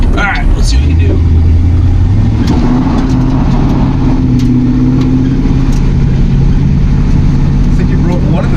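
A 1969 Dodge D100 Sweptline pickup accelerates hard on a dirt road, its engine rising in a loud, close roar as a tire breaks loose, while people talk inside the cab.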